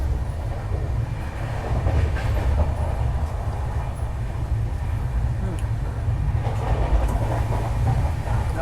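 The Surat Malda Town Express rolls along the rails in Gujarat, taking a loop line past a station. A steady, loud low rumble with faint rhythmic clatter is heard from inside the carriage, with a little background talk.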